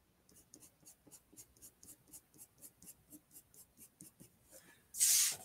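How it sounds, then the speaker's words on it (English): A pencil sketches lightly on paper while a donut is drawn, making soft, quiet, rhythmic back-and-forth strokes. A brief louder hiss comes right at the end. "And kind of lightly sketch how you think that shadow is going to fall."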